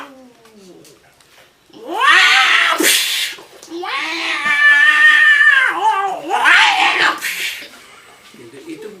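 A human voice imitates two cats meowing, producing loud drawn-out yowling meows in three bursts with a quieter lead-in and tail, close and clear.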